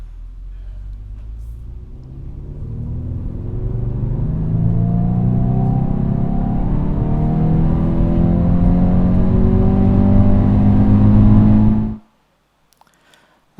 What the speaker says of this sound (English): now you'll be able to hear some of them driving sounds. So first of all, we have the normal.